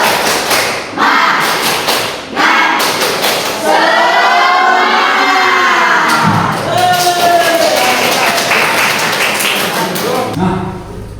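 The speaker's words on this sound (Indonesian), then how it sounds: "kita awali dengan tepuk semangat" A class of students performing tepuk semangat, a rhythmic clapping chant, in a Hindu religious lesson at a school in Singaraja: loud, dense patterned claps and thumps with group voices shouting along, continuing for about ten seconds.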